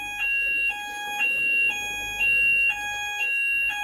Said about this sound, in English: Most noise-cancelling headphones are designed to cancel out human speech and music, not fire alarms.